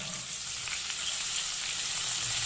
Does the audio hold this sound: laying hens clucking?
no